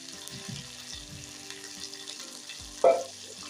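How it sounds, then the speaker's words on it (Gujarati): Sugar stirred into a simmering khaman dhokla tempering over a low gas flame: a soft, steady sizzle with gentle stirring scrapes and one brief louder clink near the end, no talking. "આપણે ખાંડને વગળે ત્યારે આ રીતના ધીમા ગેસે હલાવી લઈશું"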